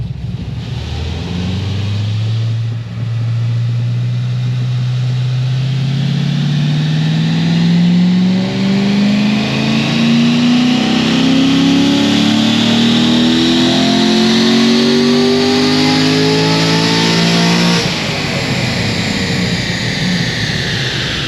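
A Corvette C6 Z06 engine revs steadily upward at full throttle on a dyno for a long, loud pull, its pitch climbing continuously before dropping off near the end.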